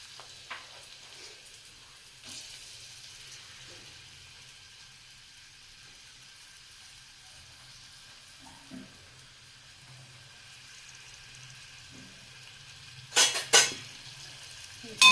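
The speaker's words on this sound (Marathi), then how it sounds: "चला आता आपण कढीपत्त्याची फोडणी देऊया" Soft, steady sizzling of curry leaves and onion frying in oil, with a few clinks of utensils and a brief louder clatter near the end.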